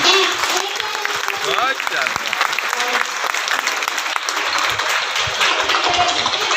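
An audience claps steadily and loudly throughout, a dense wash of applause with some crowd noise mixed in.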